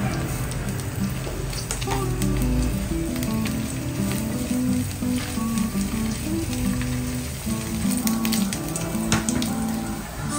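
Canned sardines sizzle and crackle in a hot pan, a steady, close frying hiss with occasional stirring, and people can be heard faintly in the background.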